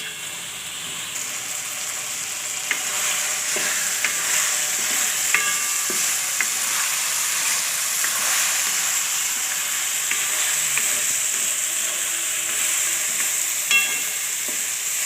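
Cauliflower and bottle gourd fry in oil in a pan with a steady, close hiss. Light stirring clicks tap through it now and then.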